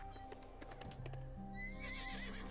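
A unicorn in the motorbike game Trials Fusion lets out a loud whinnying neigh over rapid clip-clopping hooves, with game sound effects around it.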